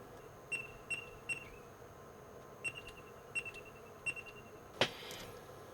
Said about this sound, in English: Now it sounds like a couple of beeps in a room.